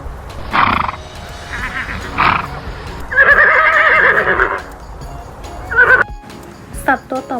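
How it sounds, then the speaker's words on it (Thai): A horse neighs and whinnies loudly in several bursts, with hoof clip-clops and someone speaking between them. "ไปฟังเสียงม้ากันเลยค่ะ"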